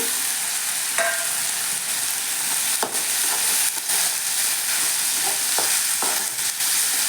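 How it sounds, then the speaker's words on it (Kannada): Crushed green chillies fry in oil with a continuous close sizzle, and scattered spatula scrapes and stirring knocks sit over the steady hiss, with no voices. "ಹಸಿಮೆಣಸಿನ್ಕಾಯಿ ಜಜ್ಜಿ ಹಾಕಿದ್ರೆ ಸ್ವಲ್ಪ ಎಣ್ಣೆ ಫ್ರೈ ಆಗ್ಯದ"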